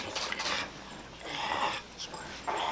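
A dog pants in breathy bursts, with a faint whimper or two between them, close up and moderately loud, and no speech over it.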